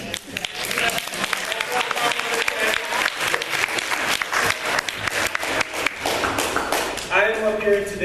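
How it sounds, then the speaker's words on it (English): Loud, sustained applause from a family reunion crowd, dense clapping filling the space with cheering mixed in, easing off toward the end as a voice begins. "Give my dad an applause."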